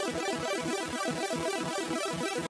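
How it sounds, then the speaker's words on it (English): A bright, buzzy supersaw synthesizer plays a fast, even arpeggio, its notes pulsing in a steady repeating rhythm, loud and alone. "So now with the arpeggiator on, the supersaw sounds like this."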